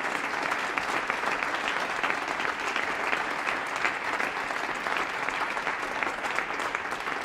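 Dense, sustained applause from a concert crowd honouring the drummer, a steady wash of many hands clapping at even loudness throughout, with no voices over it.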